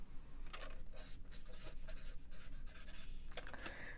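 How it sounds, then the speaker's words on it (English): A pen scratching down measurements on paper while making a notebook from a recycled pharmacy bag, a steady close scribbling with short strokes and pauses, no voice. "So let's write that down."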